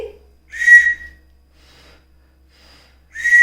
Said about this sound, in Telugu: దీనికి ఇక్కడ మనకి విజిల్ కూడా వస్తుంది